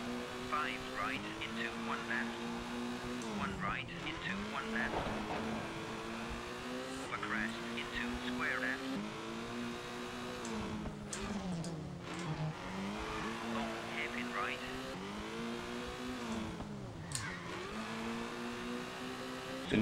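Rally car from Colin McRae Rally: Championship on PS1 with a steady engine drone that rises and falls in pitch through repeated gear changes, with brief tire noise, continuous and moderately loud.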